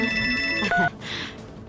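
Melodic electronic ringtone of a phone with an incoming call, a short run of bright rising notes ending in a higher held tone, then stopping, heard close and clear.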